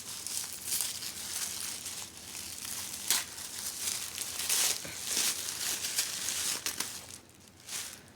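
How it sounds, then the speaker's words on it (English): A plastic sleeve is pulled off a doll's arm, giving close, continuous crinkling and rustling with a few sharper crackles throughout. "I do like it when dolls come with just a plastic sleeve over their arm. It's easier to pull it off."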